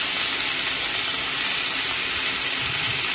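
Ginger paste sizzling in a pan of spices while cooking a simple Bengali taro and potato curry, a steady bright hiss of frying throughout, close and even with no talking.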